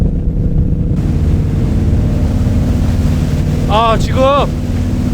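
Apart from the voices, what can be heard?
Scania V8 marine boat engine running, waves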